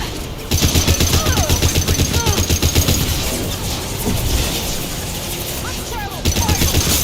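Rapid sustained gunfire from the video game Mass Effect 2, loud continuous volleys with mechanical clatter and small whistling tones, easing slightly in the middle before another burst near the end.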